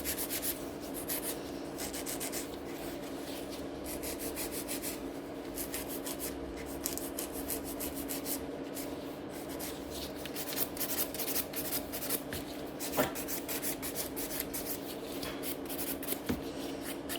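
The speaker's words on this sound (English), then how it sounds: "So when this hand is flash curing, I will be just starting filing the tips as well." Acrylic nail tips being filed in a salon: quick, soft rasping strokes repeat in a steady rhythm, close and fairly quiet, continuing for many seconds with no talking.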